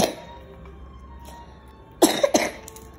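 A person with a cold coughs a few times, close and fairly loud, in a room with a hamster cage. The coughs come in a short burst near the end after quiet background noise.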